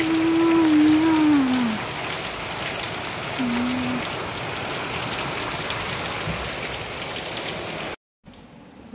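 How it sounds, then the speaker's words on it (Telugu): Heavy evening rain pours down as a dense, steady hiss, loud and unbroken for about eight seconds before cutting off abruptly. "ఫుల్ వర్షం పడుతుంది"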